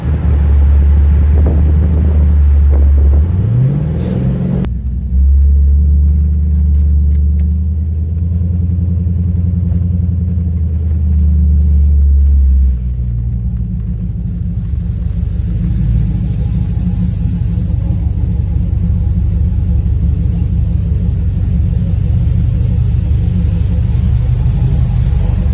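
A car with no third gear drives at 50 mph, a loud steady engine rumble and road drone with a brief rising rev early on, heard close from inside the cabin.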